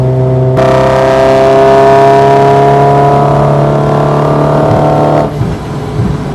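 A supercharged Renault Clio RS200 engine drones loud and close while driving, a steady humming whine with rising pitch that holds for about five seconds before easing off.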